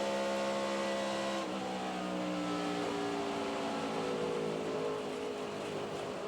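A 1997 NASCAR Xfinity Series race car at Homestead-Miami Speedway, heard from the onboard camera: a loud, close engine drone that holds steady, shifting pitch as the car accelerates and lifts, with no talk.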